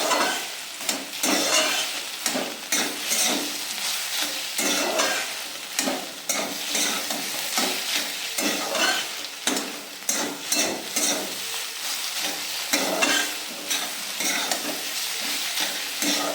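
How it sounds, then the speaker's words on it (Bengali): Radish pieces frying in a pan for a Bengali curry, stirred continuously with a spatula: steady sizzle under repeated scraping strokes, close and fairly loud, with no talk. "এইভাবে শুধু নাড়িয়ে যেতে হবে, যেন আবার তলায় যেন না লেগে যায়।"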